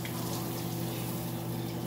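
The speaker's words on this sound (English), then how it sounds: "See how water drain." Water rushes and gurgles steadily down a sink drain, a constant close-up churning flow with no voices.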